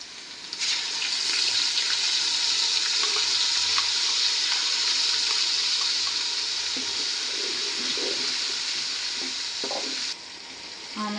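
Paste is added to onions frying in a pan for biryani, giving a loud, steady sizzle close up with brief stirring and scraping, and no talking.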